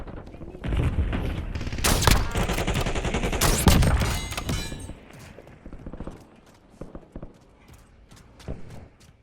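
Gunfire in the video game Warzone: dense rapid bursts of shots and crackling blasts that are loud for several seconds, then fade to sparse, fainter pops and clicks.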